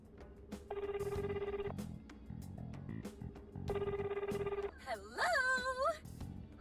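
Two bursts of a warbling electronic phone ring from the video game Persona 5 Strikers, each lasting about a second, then a short chirpy melodic answer tone, set over soft background music.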